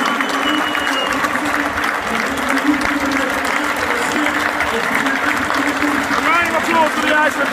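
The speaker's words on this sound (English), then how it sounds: "We are applauding Iceland" Football fans applauding the Iceland team after England's 1–2 Euro 2016 defeat, a sustained crowd clapping across a stadium with a voice speaking over it throughout.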